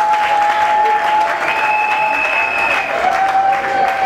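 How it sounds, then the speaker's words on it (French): Guests at a customary wedding clap steadily and loudly, a continuous wash of applause with a faint background tone and little talk. "On applaudit très fort, on applaudit."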